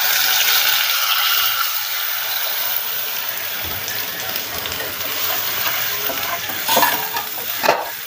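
Tempering of spices sizzles in a pan for kadhi pakoda while a spoon stirs it, a loud close frying hiss with clinking scrapes near the end and no voices.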